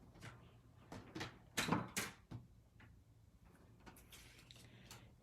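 A paper trimmer slicing through card in a craft setup, a few sharp sliding cuts and clacks in quick succession, close and moderately loud, with quieter handling sounds between.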